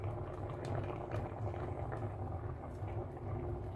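Tuna stewed in coconut milk with okra laid on top, simmering in a pot: a steady, close bubbling and gurgling that runs evenly throughout with no talk.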